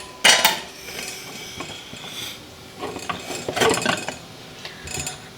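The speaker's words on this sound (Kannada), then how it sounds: "ಸೊ ಈಗ ಕುಕ್ಕರ್ ಲಿಡ್ನ ಕ್ಲೋಸ್ ಮಾಡಿಬಿಡೋಣ" A pressure cooker lid is set and locked in a home kitchen during cooking, giving a sharp metallic clank, then scraping and rattling, and a second cluster of clattering metal clicks near the end, with no talking.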